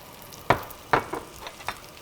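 Crumbled hempeh lands in a hot pan and sizzles, with a few sharp close crackling bursts over a low frying hiss, no voices.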